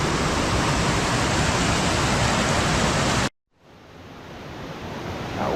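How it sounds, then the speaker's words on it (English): Loud, steady gushing roar of a waterfall in a canyon fills the first three seconds, then cuts off abruptly to a much quieter, distant rushing that slowly swells back. "That water is gushing over the top."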